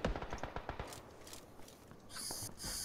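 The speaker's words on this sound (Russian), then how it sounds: "Слева от нас стрельба." Automatic gunfire in the battle royale game PlayerUnknown's Battlegrounds: a fast rattle of sharp shots at moderate distance, followed by a quieter stretch and then a few scattered bursts.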